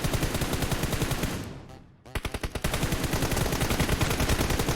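Rapid automatic gunfire from a shooting video game rattles in loud, continuous bursts, falling briefly quiet for a moment before the fast shots resume.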